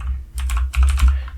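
Quick bursts of typing on a computer keyboard as a Java class name is entered in a code editor. Two close, crisp clusters of keystrokes sit over a low steady hum.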